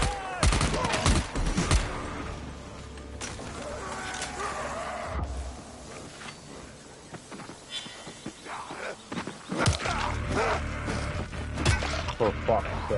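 Gunfire in the video game Dying Light The Beast, sharp shots and bursts scattered through the clip over game ambience, mixed with other loud in-game noises.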